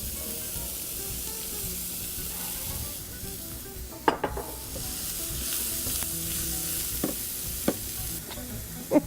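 Red onions sizzle and crackle in hot oil in a pan, a steady close frying hiss broken by a few sharp clinks and stirring scrapes, with no talking.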